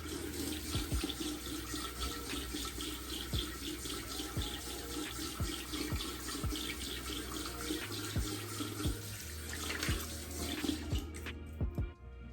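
Tap water runs steadily into a sink as a beard is rinsed, giving a continuous close splashing rush with small shifts as the hands move through the flow.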